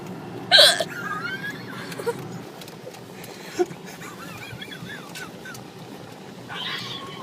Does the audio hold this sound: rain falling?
no